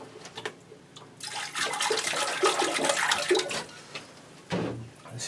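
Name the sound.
water poured on potted orchids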